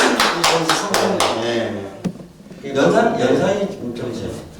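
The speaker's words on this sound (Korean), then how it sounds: "박수를 좀 쳐야 되겠다." Brief burst of hand claps at an art talk, a quick run of sharp claps at the start fading out, followed by people speaking and light laughter.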